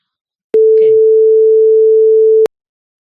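Synthesized audio signal sampled at 1500 Hz: a single steady, pure electronic tone held for about two seconds, loud and alone, beginning and ending with a sharp click.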